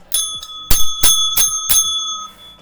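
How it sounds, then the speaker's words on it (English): A small bell rung to celebrate a chess win chimes bright and clear, struck about five times in quick succession with long shimmering ring-outs between strikes, close and loud. "our little winning bell"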